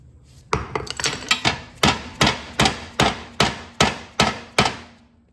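Repeated blows from a dead blow hammer driving out a bearing on a John Deere 318 mower deck, about a dozen sharp, evenly spaced strikes close by, slowing slightly after a quick opening flurry.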